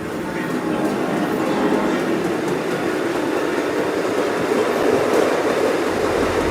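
The Bernina Express pulls out of Tirano with a continuous rumbling rail noise and faint clatter of wagons that builds slightly as the train gets under way.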